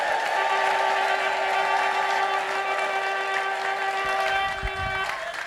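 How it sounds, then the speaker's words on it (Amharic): Church congregation at an anniversary service clapping together in a dense, sustained wash of applause, with a steady held tone running through it and a voice speaking over the crowd. "ጭብጨባ ብቻ አላስቸግራችሁ፣ በጭብጨባ ብቻ ተባበሩኝ እባካችሁ"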